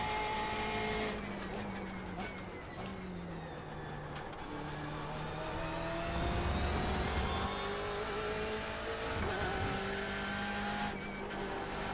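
A BMW M8 GTE race car in iRacing at Road Atlanta roars at full throttle, its engine note climbing and shifting steadily with a loud, continuous drone and occasional tire noise.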